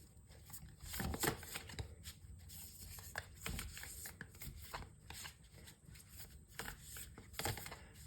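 Tarot cards shuffled softly and close by, with quiet rustles and irregular slapping riffles spread over several seconds.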